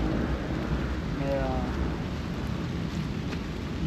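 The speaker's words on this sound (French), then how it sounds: "il pleut, il pleut, il pleut" Rain falls steadily at an FMSQ motorsport event in Mont-Laurier, a continuous close hiss with a low, rumbling undertone. No voices are heard.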